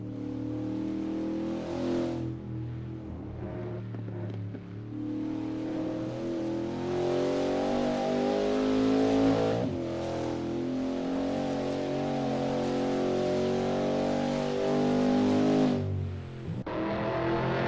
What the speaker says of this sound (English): There's not much better than sitting near here and watching the cars speed by.